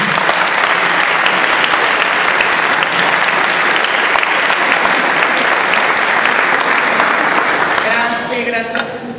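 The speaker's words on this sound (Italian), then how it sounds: "a cui tributerei un grande applauso" Loud, sustained applause from a concert audience at a music high school evening, a dense continuous roar of clapping that tapers off at the end as a voice begins.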